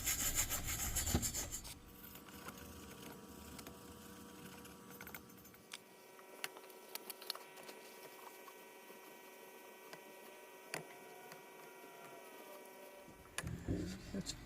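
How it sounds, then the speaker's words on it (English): A soft nylon brush scrubs crud off the top of a Kamplite lamp held in a vise, giving intermittent close rubbing and scratching strokes with a faint background hum, quiet overall. "This is a soft nylon brush. Just hit it. Get some of this crud off the top."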